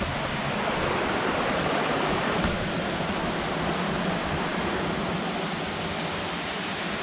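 Kaijoda waterfall in Kendujhar, Odisha roars as a steady, loud, broadband rush of falling water, continuous and unbroken throughout with no voices.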